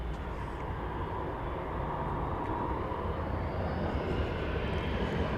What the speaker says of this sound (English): American Airbus A319 is off to Jackson, Mississippi.